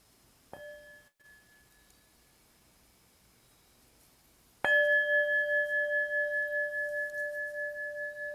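A small hand bell is struck twice: a soft, brief ring near the start, then a much louder strike whose clear tone lingers and pulses for several seconds in a quiet room.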